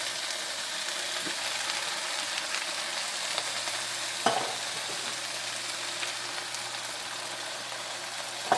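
Canned Rotel tomatoes hit a hot pot for a courtbouillion and set off a steady, close sizzle and frying hiss, with a few stirring clinks and no talking.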